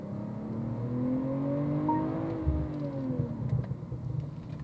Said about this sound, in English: An exhaust burble has been engineered in.